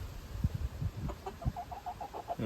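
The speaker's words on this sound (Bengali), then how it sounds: "এই কুলসুম একটা ডিম পাড়া মুরগি" A laying hen on a poultry farm clucks in a short series of soft, repeated calls, close by, with low rustling and shuffling noises underneath.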